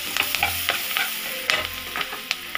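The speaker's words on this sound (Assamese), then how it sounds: "পিঁয়াজ জলকীয়া ভাজি ল'লোঁ মই এনেকৈ" Onions and green chillies frying in a pan, a lively close sizzle broken by repeated spatula scrapes and clicks, with no voices.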